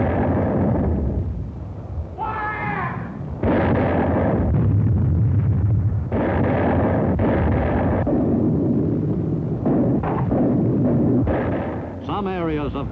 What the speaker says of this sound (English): The crescendo of the howitzers prefaced each new attack.